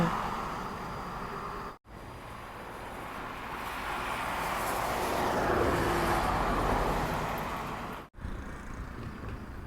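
A truck drives past on Route 13 South toward Pak Ngum in Laos, near a roadside restaurant: a broad roadway rumble that swells to a peak midway, then eases off, with brief dropouts near the start and end.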